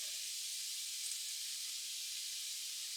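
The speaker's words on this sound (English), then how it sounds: "I can test some of it, hear it sizzling, and I'm just going to drop it in." Zucchini noodles sizzle in a hot skillet, giving a steady, bright hiss that holds evenly at moderate loudness with no talk over it.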